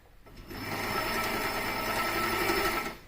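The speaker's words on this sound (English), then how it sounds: "got the machine foot down, I've got my stitch on straight stitch" A HandiQuilter Moxie XL quilting machine straight stitching; a rapid, even mechanical whir starts up, runs steadily for a few seconds close by, then stops abruptly, with no voice.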